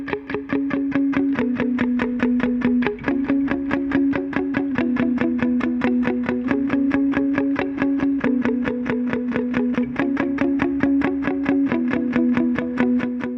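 Palm-muted, heavily distorted electric guitar chugs through the main riff of a song with steady all-down picking, a fast, even pulse of chunky notes that shifts pitch in repeating patterns, loud and close with no voices.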